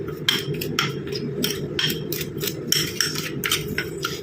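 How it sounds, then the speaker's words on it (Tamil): A spoon stirs a coffee face pack mixture with a few drops of coconut oil in a bowl, giving rapid, rhythmic scraping and clinking strokes, close and steady, with no talking. "இப்போ எல்லாத்தையுமே நம்ம மிக்ஸ் பண்ணிக்கலாம்."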